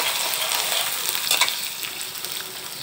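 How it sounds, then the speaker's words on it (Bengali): Chopped onions and green chillies hit hot oil in a pan for a dried fish curry, giving a steady, close frying hiss and crackle throughout with no one talking. "তেলগুলো গরম হয়ে গেছে, দিয়ে দিচ্ছি পেঁয়াজ কাঁচামরিচ।"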